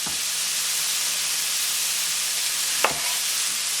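Food for an apple walnut chicken salad cooking in a pan, a steady bright sizzle and hiss with one brief clink partway through, close and continuous.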